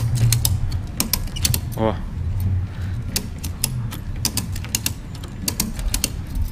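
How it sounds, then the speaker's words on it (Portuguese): A 4.5-metre ratchet strap is cranked tight to secure a car audio box in a Saveiro pickup, giving a run of close, sharp clicking ratchet strokes at an uneven pace under background noise. "vai catracando ela assim e ela vai apertando"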